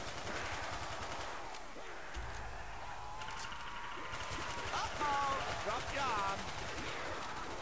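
Video game gunfire crackles in a dense, continuous stream under constant background game noise, with no clear pauses between shots.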